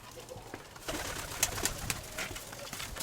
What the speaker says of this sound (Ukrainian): По-моєму, це голубка.